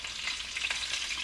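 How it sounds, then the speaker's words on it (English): Flounder fillets sizzle steadily in a hot pan, a soft crackling hiss with no voices. "the other side is still frying a little bit"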